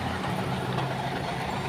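A big tow truck arrives for an overturned truck on a steep hill road, its engine giving a dense, loud, steady rumble up close.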